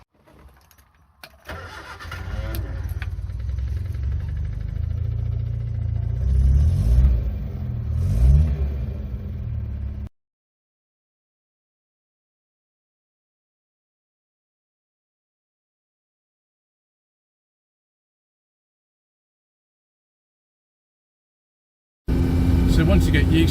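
A 1965 Hillman Super Minx engine starts and settles into a steady low rumbling run, then cuts out into a long silence before the engine sound returns loudly near the end.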